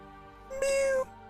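A cat lets out a single drawn-out, plaintive meow-like howl lasting about half a second, close and clear. It may be a person imitating a cat.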